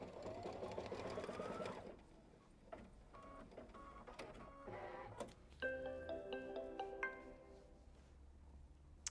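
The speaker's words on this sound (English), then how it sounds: "all you have to do is press, start, and it's going to stitch down those registration marks" An embroidery sewing machine stitches down registration marks on a quilted pouch, with a motor whir rising in pitch at first, then clicks, whirs and buzzing beeping tones from the machine, fairly quiet and close.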